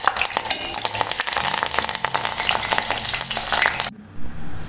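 Hibiscus leaves and petals fry in hair oil with a busy sizzle and crackle while a spoon stirs and clinks against the pan, then the sizzling drops away abruptly near the end.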